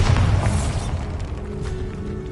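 A Bombarda blasting spell explodes inside a tomb in the video game Hogwarts Legacy: a single booming burst at the start that fades into a low, rumbling decay.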